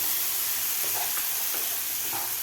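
Green peas stir-fried in a pan at home until softened, giving a soft steady sizzle with faint stirring scrapes, close and fairly quiet, no talking.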